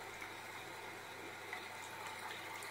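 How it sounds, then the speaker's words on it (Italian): Running tap water rinsing photographic paper in a darkroom tray, a steady, soft, continuous wash of water without pauses. "alcuni minuti di lavaggio in acqua corrente"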